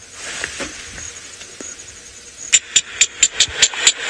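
A recorded call of a pectoral-patch cisticola played outdoors on a sunset safari drive: a quiet stretch of ambience, then a rapid series of about seven sharp, high clicking notes, evenly spaced and fairly close.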